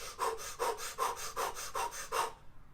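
Rapid breathing in and out through the mouth, driven from the belly for recovery between rounds: about seven quick, evenly spaced rasping breaths, close and clear, ending abruptly.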